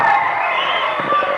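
An audience at a movie audio launch cheers and claps in a loud, sustained crowd roar, with a few sharper claps near the end and a voice speaking over it.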